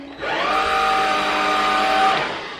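A Black & Decker 18V 4-in-1 Powerseries Extreme stick vacuum cleaner runs with a steady, loud motor whine for about two seconds, then spins down.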